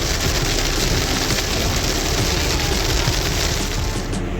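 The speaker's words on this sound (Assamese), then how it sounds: "আকৌ এইফালে বৰষুণ।" Steady rain pours down during a trip toward Dibrugarh, a dense continuous hiss with low rumbling texture, loud and unbroken throughout, with no one speaking.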